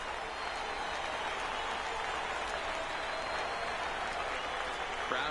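Baseball crowd at a minor-league game between the San Antonio Missions and Oklahoma City Dodgers applauding steadily, a broad sustained wash of clapping and crowd noise throughout with faint voices mixed in.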